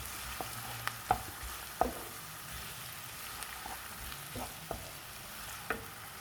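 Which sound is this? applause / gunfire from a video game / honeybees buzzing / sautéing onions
sautéing onions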